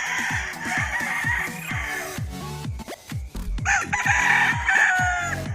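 A Pumpkin Gilmore gamefowl rooster at a backyard game farm in Compostela, Cebu, crows loudly and repeatedly. Sharp, rhythmic clucks and other fowl sounds fill the gaps between the crows.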